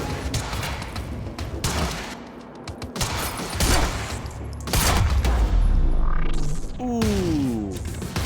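Dense, sustained volleys of gunfire fill a firefight in the action game Quantum Break, loud and continuous with occasional heavier blasts and whooshing effects.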